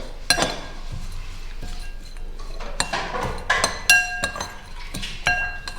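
Crispy fried okra (bhindi) salad with lemon, Sri Lankan style and vegan, tossed close by: sharp clinks of a utensil against a glass bowl, scattered irregularly over a soft rustle, with no talking.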